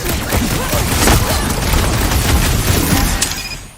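Fireworks go off in the Guardians of the Galaxy video game as a dense, loud barrage of booms and crackling bursts that runs nearly unbroken, then trails off at the end.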